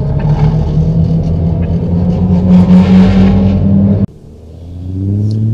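Airport fire rescue trucks driving out to a simulated aircraft emergency, a loud, close, steady engine roar with a droning tone that cuts off abruptly, then a lower engine hum that builds again.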